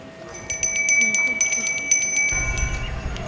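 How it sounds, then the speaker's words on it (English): Bells ring at a pagoda in Mandalay as a series of bright, repeated metallic strikes with a sustained ringing tone, heard over busy background noise and a low crowd murmur. "Bell?"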